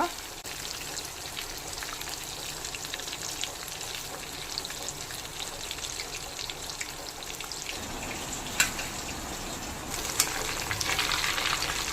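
Sardines coated in semolina shallow-fry Mangalore style in about an inch of oil, giving a steady, dense crackling sizzle that runs the whole time, with a couple of sharper pops near the end.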